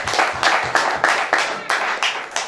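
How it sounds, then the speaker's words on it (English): A crowd at a Swindon bare-knuckle boxing event claps in a steady, loud, rhythmic pattern of repeated bursts. Faint talk sits underneath. "Just a massive round of applause, obviously for Phil doing 3 tables."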